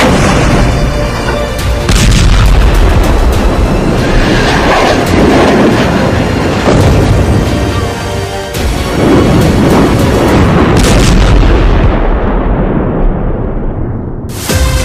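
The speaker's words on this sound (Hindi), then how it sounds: "हिजबुल्लाह आर्मी ने हाइफा में रॉकेट धमाके की झड़ी लगा रखी है।" Rocket explosions strike Haifa city during a Hezbollah barrage, heard as a loud, continuous roaring rumble with heavy low booms that swell and ease over several seconds before cutting off abruptly.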